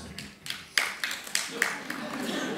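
Scattered, sparse hand claps from a stand-up comedy audience, a handful of sharp bursts spread across a couple of seconds, quiet and thin rather than a full ovation.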